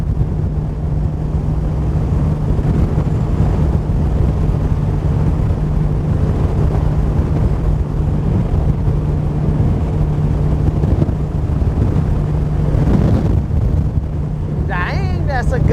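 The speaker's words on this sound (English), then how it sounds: "Dang, that's a gust." Wind roars across the microphone on a fast-moving boat at about 58 miles per hour on a lake, a loud, steady rushing that swells into a gust near the end over a low engine drone.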